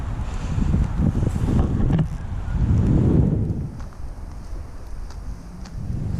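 Gusty wind blows outdoors at Faulconbridge Cemetery, loud rumbling bursts buffeting the microphone that rise and fall, peaking midway, before settling into a lighter hiss.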